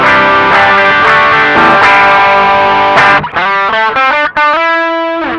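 An electric guitar plays through an Ibanez TS Mini Tube Screamer overdrive with the gain turned all the way up, starting with loud, heavily distorted strummed chords and then shifting to choppier, separated notes near the end.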